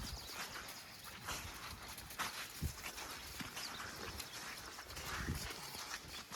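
Horse hooves clip-clopping at a walk in an arena during a riding clinic, steady soft beats under a noisy, breezy background with no talking.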